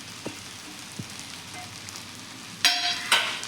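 An egg goes into a hot pan for egg fried rice, giving faint crackles at first and then two sharp bursts of loud sizzling close to the mic.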